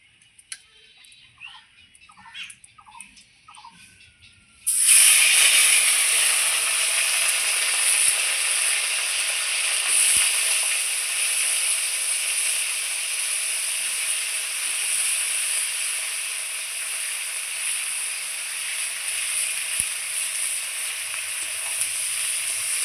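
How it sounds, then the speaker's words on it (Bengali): Brinjal frying in mustard oil in a wok, a steady bright sizzle bursting in loudly after a few quiet seconds of faint clicks and chirps, then holding strong and even throughout. "এইবার কড়াইয়ে সরষের তেল দিয়ে দিচ্ছি, বেগুনটা ভেজে নেব"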